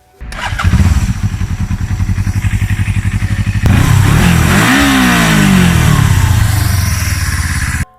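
A 1980 Suzuki GSX 250E, a Japanese two-cylinder motorcycle, idles with a steady rapid loping beat, then revs hard midway and stays loud and close, its pitch rising and sweeping before cutting off abruptly.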